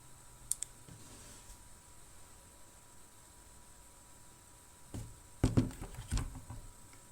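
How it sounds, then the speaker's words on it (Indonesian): Computer keyboard typing comes through an online meeting call. A couple of isolated clicks are followed after a quiet stretch by a short burst of clattering keystrokes, faint and slightly muffled over steady hiss. "Baru ngetik mungkin"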